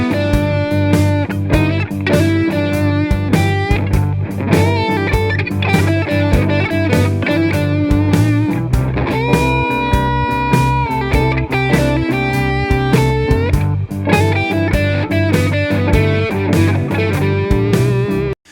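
Distorted electric guitar plays a fast, busy major pentatonic blues lick over a full backing track with drums, loud and continuous from start to finish.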